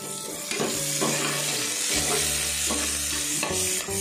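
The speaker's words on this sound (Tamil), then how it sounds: "அடுத்ததாக நம்ம கட் பண்ணி வச்சுருக்க சின்ன வெங்காயம், ஒரு பச்சை மிளகாய் சேர்த்துக்கிறோம்." Chopped shallots and a green chili sizzle steadily in hot oil in a pan while being stirred, with scraping stir strokes over continuous frying crackle, close and fairly loud, for a tomato biryani.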